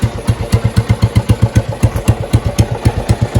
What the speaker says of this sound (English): It didn't want to idle, and the idle screw I've had to wind it right in to get it to idle.